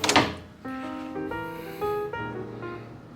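Hotel room drawers sliding open and shut, a quick close scrape followed by a series of short wooden rubbing and thudding movements with a faint background hum.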